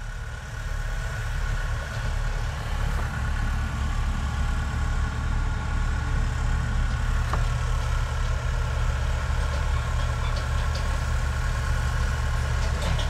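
A tractor engine idling at an apple packing shed in a farming town, a steady low rumbling drone that continues evenly without pause, close and loud.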